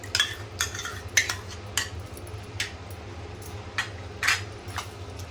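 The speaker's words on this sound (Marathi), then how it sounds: "दही चांगलं फेटायचं आहे" A spoon clinks and scrapes against a metal pot or bowl while yogurt is beaten for a chicken dish, with several sharp taps at uneven intervals over a low steady hum.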